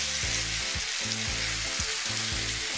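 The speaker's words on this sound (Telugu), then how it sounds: "మొత్తం రైస్ అంతా కలిసేలాగా కలుపుకోవాలి" Tomato rice frying in a pan, a continuous loud sizzle with spoon scrapes and stirring strokes recurring in a steady rhythm, close and without talk.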